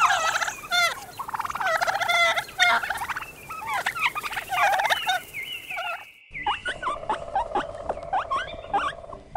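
A turkey gobbles in repeated rapid, warbling bursts, loud and close, followed by more gobbling and high squeaky calls after a short break, with no talking.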